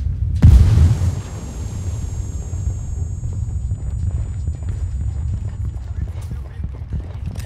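A grenade goes off in Ghost Recon Wildlands during a casino raid mission, a sharp close boom followed by a low rumbling, gusty game ambience.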